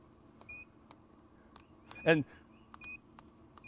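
A Rec-Tec pellet smoker gives short electronic beeps as it powers on, thin tonal chirps scattered through the moment, with a voice speaking around them.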